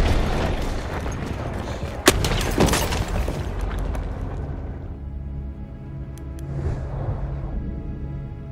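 A grenade goes off in a Battlefield 1 battle at Amiens with a sharp loud blast amid ongoing gunfire and booming explosions, the din thinning out afterward.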